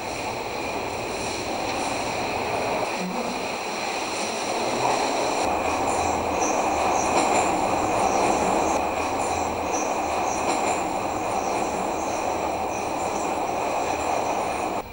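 A Moscow metro train runs with a loud, continuous rumble of wheels and carriages, a steady roar across the whole stretch with faint squeals and no talking.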